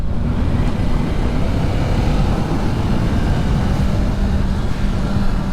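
Kawasaki Ninja 500 (2024) motorcycle engine heard while riding, a steady buzzy drone with heavy low rumble and wind noise running continuously and loud throughout.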